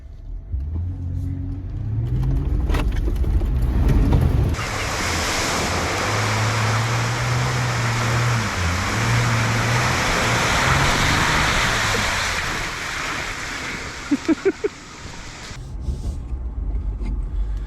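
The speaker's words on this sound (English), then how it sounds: "we're about to try this big mud hole that Landon did." An off-road vehicle in the Ozark mountains revs hard and plows through a big mud hole, a loud, steady rumble and rushing splash of mud and water. People talk over it.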